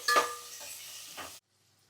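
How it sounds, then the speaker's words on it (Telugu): Onion pieces frying in a little oil in a pot, a brief sizzle with stirring and a scrape of utensil against metal, close and moderately loud, then cut to near silence. "ఇది కొంచెం ఆయిల్లో దోరగా వేపాలి ఉల్లిపాయ ముక్కలు."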